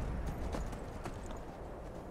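Horse hooves clip-clop at a steady riding gait in Skyrim, the rider in Nightingale armor, loud and close over a dense, constant background rumble.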